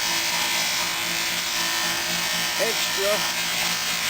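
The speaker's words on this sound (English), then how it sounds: "Be careful when you are buffing that you don't round off the edges where an edge should be sharp." A drill spins a buffing wheel against a tarnished part from a Maytag model 92 gas engine, giving a continuous high motor whine at even loudness, while someone talks over it.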